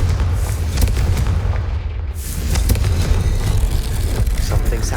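A Confringo fire spell explodes in Hogwarts Legacy with a loud, rumbling blast whose deep roar holds steady and heavy for several seconds, with a brief surge partway through.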